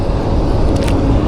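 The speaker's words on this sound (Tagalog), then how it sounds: "Yung maririnig nyo po ng mga sasakyan ay sa expressway po yon," Continuous, loud traffic from a nearby expressway, with cars and passing trucks, rolls past as a steady broadband rumble with no pauses.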